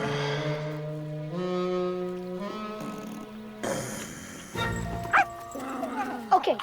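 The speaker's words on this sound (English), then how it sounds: "I'll get the dog." A dog gives a few short yips and whimpers, fairly close, with brief barks near the end and a sustained tonal background running under them.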